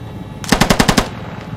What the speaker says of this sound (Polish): Ej, kto tu strzela?